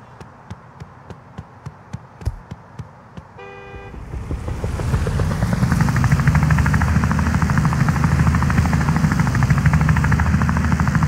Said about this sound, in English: Oh, a helicopter? Perfect. I could definitely use a helicopter.